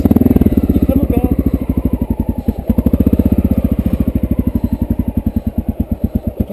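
A motorbike engine runs steadily up close, its rapid regular firing pulses loud throughout with a brief dip and recovery midway, and people talk faintly beneath it.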